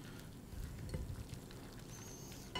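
Scrambled eggs cook quietly in a pan with fresh butter, giving a soft, steady patter and faint sizzle with occasional small stirring scrapes.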